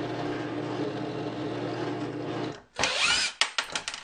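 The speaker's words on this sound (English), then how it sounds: "proceed to drill the rest of the pilot holes" Steady power drill whirring for a couple of seconds, then stopping; a short burst of higher, rougher drilling into wood for pilot holes follows with a few brief clattering bumps.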